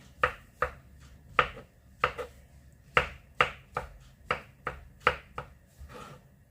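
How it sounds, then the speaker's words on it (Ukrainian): Mushrooms being chopped small with a knife on a board for a rice soup, about fifteen crisp close taps in an uneven rhythm, each a short sharp knock, with no talking. "Так, гриби ми нарізали"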